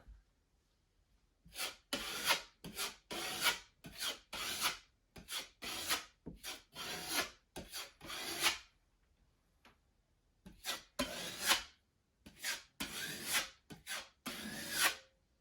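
Drywall compound being spread with a putty knife over small holes in drywall, a series of short raspy scraping strokes in irregular bursts, close and fairly quiet with pauses between passes.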